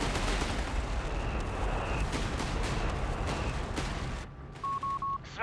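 Artillery fire in Company of Heroes 3, dense rumbling booms and distant gunfire rolling continuously, then thinning out, followed by a few short beeping interface tones.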